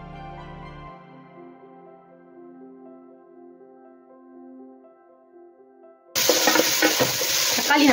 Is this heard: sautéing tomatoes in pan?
yes